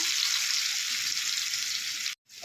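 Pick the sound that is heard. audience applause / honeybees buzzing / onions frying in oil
onions frying in oil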